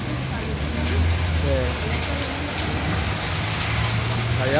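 Heavy rain pours down steadily and loudly outdoors at a taco stand, a dense continuous hiss with people talking beneath it.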